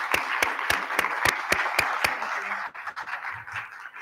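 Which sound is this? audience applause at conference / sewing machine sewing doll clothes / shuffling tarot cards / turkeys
audience applause at conference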